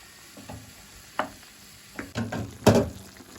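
Lamb meat frying for kavurma, being stirred in a pan: scattered scraping and clattering stirs over a faint sizzle, growing louder toward the end.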